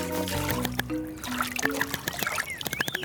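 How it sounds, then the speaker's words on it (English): Cartoon water splashing in a garden paddling pool, with light pouring and trickling sounds under music and a voice. "And Wallace kept on splashing in the water"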